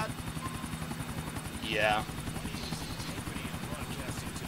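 A helicopter in GTA 4 produces a steady, loud rotor thump throughout, with a brief sweeping whoosh in the middle; a person speaks over it.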